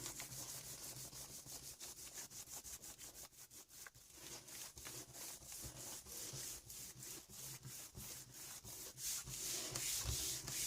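Paper is rubbed by hand onto a homemade gelli plate for a cleanup print, giving a steady, close, rhythmic dry scraping and brushing that continues throughout with no talk.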